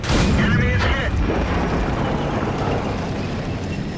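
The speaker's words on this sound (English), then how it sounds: "We had so many Arties firing, it was really kind of hard to see who was shooting at who." Artillery fire and explosions in a tank video game: a loud, close boom opens, then decays into a continuous rumbling wash of battle noise with faint further blasts.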